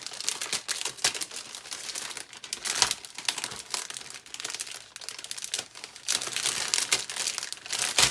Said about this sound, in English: Again, sorry for all the crinkling, but I'm opening it up with you guys.